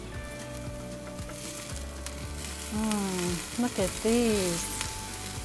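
Taco filling sizzling and simmering in a pan on a stovetop, a steady close crackle under a woman's brief speech with soft stirring noises.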